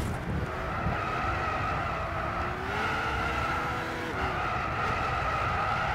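A Ferrari FXX '07 in Gran Turismo 6, tyres spinning and squealing on a wet track, a sustained engine drone with a rising-then-falling screech of rubber over several seconds.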